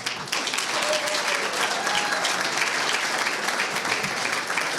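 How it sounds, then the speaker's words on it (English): Sustained, loud applause from an audience greeting county commissioners at a State of the County forum, steady clapping filling the room without pause. "please greet them with a furious, sycophantic applause"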